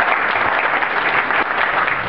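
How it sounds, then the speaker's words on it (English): A media panel audience at a conference gives a dense, steady round of applause, loud and continuous with no voices over it. "He deserves a round of applause."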